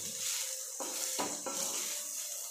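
Onion greens being stirred and fried in a pan, with a steady sizzle broken by a few scraping stirs of a utensil against the pan; no talking.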